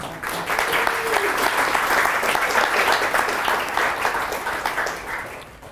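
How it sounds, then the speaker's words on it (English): Steady, loud applause from a hackathon audience at the opening of the HackOn(Data) 2016 event, dense clapping sustained evenly throughout and easing slightly at the end. "So you should give yourself a great round of applause."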